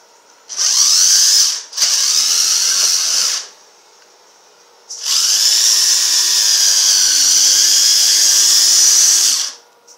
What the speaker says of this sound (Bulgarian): Ето виждаме, че болта се отви.